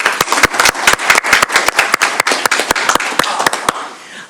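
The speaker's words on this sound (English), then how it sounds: "So let's give him another round of applause." A roundtable audience claps loudly and densely, with sharp individual hand claps close by, before the applause thins and fades out toward the end.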